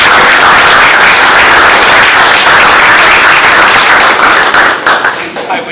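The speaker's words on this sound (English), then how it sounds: "give them an extra pat on the back or an extra applause for the excellent food they produced" Loud, sustained applause from a dinner audience honouring the cooks of a spaghetti dinner, dense steady clapping that tapers off near the end.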